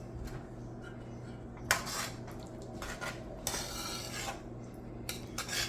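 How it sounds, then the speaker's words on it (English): Seafood stew with tomato sauce stirred in a pot, a spoon clinking and scraping against the metal in a few separate bursts over a quiet background, close by with no talk. "now we're gonna add 1 cup of tomato sauce. Okay, and we're gonna stir everything up."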